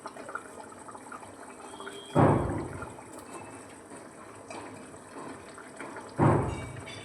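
Eggplant and papda fish pieces dropped into a boiling mustard-poppy curry, two distinct splashing plops a few seconds apart over a low simmering bubble.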